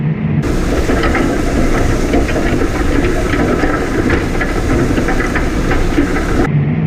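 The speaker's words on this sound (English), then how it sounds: "Yeah, tractor handles it beautifully." A steady, loud mechanical drone with hissing and rattling from a tractor engine heard from inside its suspended cab, running continuously without pause.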